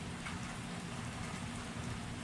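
Steady rain pours onto a grassy flat, a dense, continuous hiss of countless drops close by with no voices.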